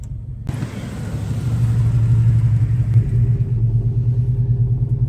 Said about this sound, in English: Definitely has an exhaust leak.